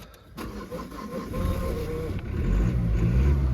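A Mazda CX-3 with a 1.5 SKYACTIV-D diesel engine and manual gearbox cranks and fires up, then settles into a steady, fairly loud low rumble of diesel idling, close by.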